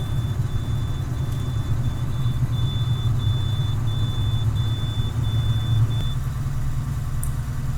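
Class A truck engine idling with a low, steady diesel rumble while building air pressure in the cab, accompanied by a repeating thin electronic beep that stops partway through.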